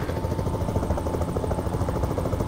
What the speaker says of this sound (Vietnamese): trời ơi nghe tiếng trực thăng